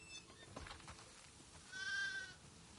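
A single sheep bleat in The Last of Us Part II wavers briefly, faint and slightly distant, after some soft rustling, with a thin game-like quality.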